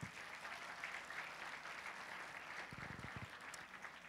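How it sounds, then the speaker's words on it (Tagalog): Steady applause from a church congregation fills the whole clip, a dense continuous clapping with a few louder claps near the end. "Sa pangmalakas na palakpak."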